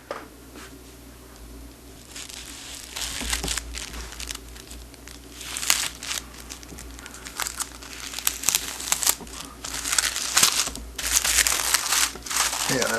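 Crisp crinkling and rustling of light cellophane wrapped around a brick of ThunderBomb firecrackers, handled close up in irregular bursts over several seconds.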